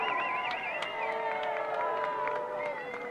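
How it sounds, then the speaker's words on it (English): Crowd cheering at a college field hockey game as students run with a team sign, a steady wash of distant voices and shouts with whistling tones, continuous and moderately loud throughout. "Crowd getting into it a bit."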